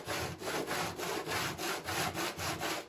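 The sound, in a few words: hand sanding body filler with sandpaper on a wooden block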